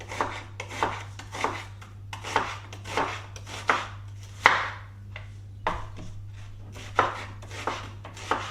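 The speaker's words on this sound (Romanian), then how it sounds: "Ceapa o tăiem în solzișori." An onion being sliced with a knife on a cutting board for lentil soup, a steady series of about a dozen crisp, close chopping strokes in an even rhythm, with no talking.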